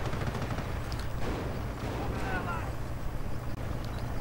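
Dense, continuous machine gun fire and battle din from a World War II strategy video game, with a half-track giving machine gun support beside a Stuart light tank and Commonwealth infantry, the rattle steady and thick throughout.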